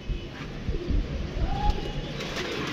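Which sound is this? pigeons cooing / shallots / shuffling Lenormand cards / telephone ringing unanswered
pigeons cooing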